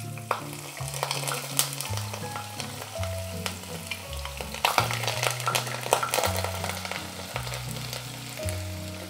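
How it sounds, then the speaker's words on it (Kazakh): Diced carrot fries in oil in a heated kazan, a steady bubbling sizzle with occasional stirring clicks, all under continuous background music. "Сәбіз аздап жұмсарғанша 3-4 минут қуырамыз."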